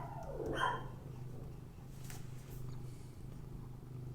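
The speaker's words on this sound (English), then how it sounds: "Told you my dog likes to talk." A pet dog gives a brief vocal whine or grumble near the start, rising then falling, over a steady low household hum, with the rest of the stretch quiet.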